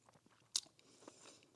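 A single sharp, crisp crunch from a bite into fried tofu kimbap, close up, followed by faint chewing sounds in a quiet room.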